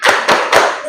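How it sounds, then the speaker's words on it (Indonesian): A third-grade class performs the tepuk semangat clapping chant in a classroom: three sharp, evenly spaced claps, close and loud, with no voices. "kita tepuk semangat terlebih dahulu"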